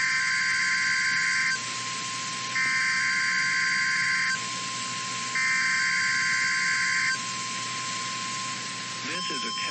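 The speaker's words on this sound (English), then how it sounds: "This is a test of the NOAA weather radio warning alarm device." A NOAA weather radio warning alarm sounds during a test broadcast: a steady shrill tone pulses on and off in three long bursts over a continuous lower hum, loud and without speech.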